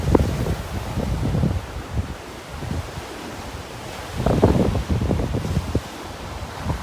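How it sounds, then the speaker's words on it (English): Wind blowing across a beach in North Naples, Florida, a steady roar buffeting the microphone in gusts, with surf washing in behind and no talking. "As I start walking south down the beach, you're going to hear that wind pick up."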